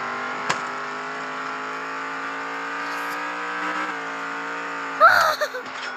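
A car in a racing video game holds a steady engine tone for several seconds, then gives a sharp burst of tire squeal and skidding near the end, with no voices.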